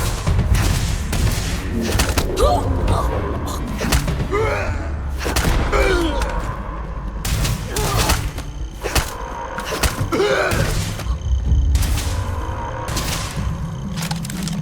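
EM rifle fire in Starfield during a Terrormorph attack, loud repeated energy bursts and heavy thuds over roughly fifteen seconds, with characters shouting and gasping between the shots.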